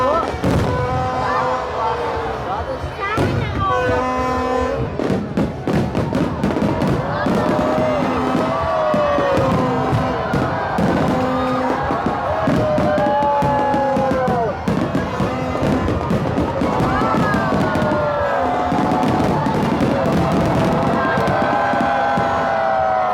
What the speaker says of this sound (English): Some crazy firework.